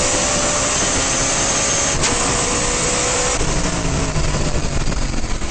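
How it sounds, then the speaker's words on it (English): Sports sedan racing cars rushing past the pit lane exit at high speed during a 2009 National Sports Sedans race at Oran Park, a loud, continuous engine roar and wind rush with a sharp passing surge partway through. "Standing at the exit of pit lane on pit wall there is the most remarkable thing when these cars go past."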